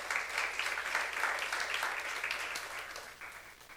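A church congregation applauds during a sermon, a steady wash of clapping from a crowd that fades slightly toward the end, heard at moderate distance.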